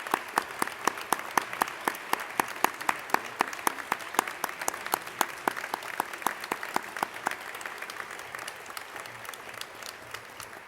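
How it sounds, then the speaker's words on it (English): Audience at an alumni award of merit gala gives a round of applause, a steady patter of many hands clapping from a moderately distant room, holding for about ten seconds before thinning slightly. "recognize them with a round of applause"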